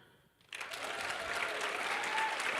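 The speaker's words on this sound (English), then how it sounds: "So who, by a round of applause, who wasn't here?" Audience applause at a convention panel begins abruptly after a quiet moment, then continues as a dense, steady wash of clapping from a large crowd indoors, with some faint whoops.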